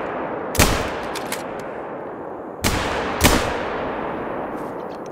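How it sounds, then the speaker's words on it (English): Gunshots ring out in the hunting game theHunter: Call of the Wild, three loud, sharp cracks with short echoing tails, one early and two close together later, over a steady outdoor ambience. "Shooting into the trees."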